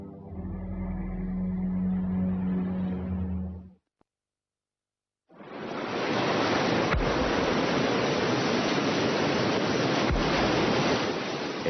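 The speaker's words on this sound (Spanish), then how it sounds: "El Mar del Sur sigue batiendo contra los acantilados de la ensenada del dinosaurio." Sea surf from the Southern Sea pounds against the cliffs of a dinosaur cove, a loud, steady roar of breaking waves; another sound comes first, then a short silence, and the crashing water fills the rest.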